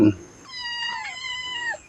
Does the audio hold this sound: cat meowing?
yes